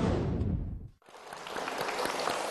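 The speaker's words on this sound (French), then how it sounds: "Alors applaudissons Tian Zhaoyang." A studio audience applauds Tian Zhaoyang on a television makeover show: dense, steady clapping that dips sharply for a moment near the middle, then swells back to full strength.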